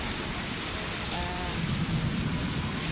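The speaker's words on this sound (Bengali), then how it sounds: "দেখুন, বৃষ্টি কিন্তু হচ্ছে।" Heavy rain falls during an evening thunderstorm seen from a balcony, a steady broadband hiss of downpour throughout, with a faint voice briefly audible underneath.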